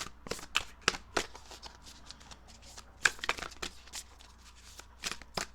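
Tarot cards shuffled and drawn by hand, with rapid irregular riffling and snapping flicks of the deck, close and crisp, with a few sharper slaps among softer rustles.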